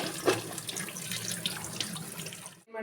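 A kitchen tap runs steadily into a sink while cooking, a close, splashy stream of water that carries on for nearly three seconds and then stops abruptly.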